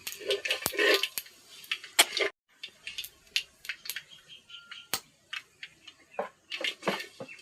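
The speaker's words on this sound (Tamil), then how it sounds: "கடுகு பொரிஞ்சிருச்சு" Mustard seeds and urad dal spluttering in hot oil for a kuppaimeni keerai sambar, a quiet scatter of sharp irregular pops and crackles of varying loudness, close up with no talking.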